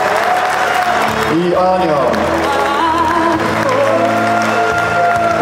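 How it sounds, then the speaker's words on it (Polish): Audience applause fills the hall at the Wenglorz Fight Cup 2013 fight gala, a steady, dense clapping with crowd noise that runs the whole time beneath a voice speaking over it. "No to wielkie brawa!"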